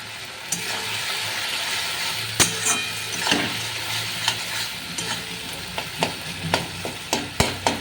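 Lote fish (Bombay duck) fries in a pan with a steady, close hiss and sizzle, broken by regular scraping and clicking stirs of a utensil against the pan.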